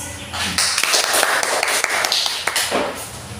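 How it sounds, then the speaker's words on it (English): Classroom group doing a rhythmic barangay clap, a quick run of sharp claps and taps close by, loud and fairly steady, with a little background chatter. "Give ourselves barangay claps."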